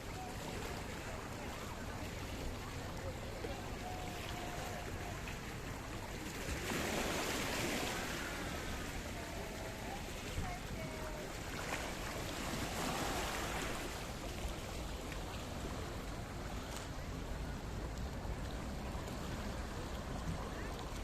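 Waves of the Mediterranean Sea wash steadily in a harbour along the Paphos sea front in Cyprus, a broad continuous rushing swell with a few louder surges, mixed with faint distant activity.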